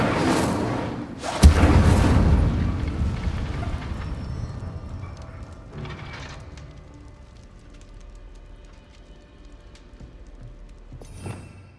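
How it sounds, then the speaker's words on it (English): A fire spell cast in the Hogwarts Legacy video game gives a loud booming burst with heavy thuds early on, then a roaring crackle that slowly fades, with a final softer flare near the end. "Incendio! Setting things ablaze is certainly expensive, isn't it?"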